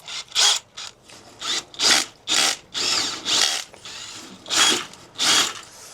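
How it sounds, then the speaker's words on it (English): A power drill mixes concrete, whirring in repeated short bursts, starting and stopping in an uneven rhythm, close and fairly loud with no talking. "we just go ahead and mix the concrete up first"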